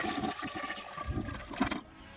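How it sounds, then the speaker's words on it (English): With its water supply shut off, a toilet flushes in a steady, fairly quiet rush of draining water that gurgles out within about two seconds and is not followed by a refill. "Step 2, flush the toilet."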